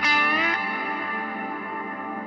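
An EarthQuaker Devices Afterneath reverb pedal set to near-infinite decay: a bright, harmonically rich guitar chord swells and then hangs as a dense, slowly fading wash of shimmering reverb that barely decays over the full two seconds.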